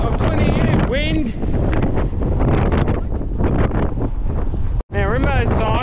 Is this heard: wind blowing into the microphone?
yes